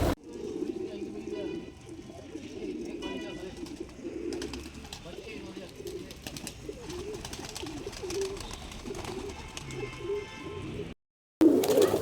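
A twenty-year-old pigeon coos steadily in low rolling murmurs, close by, with someone talking over it for most of the stretch before a brief gap and a sharp sound at the end.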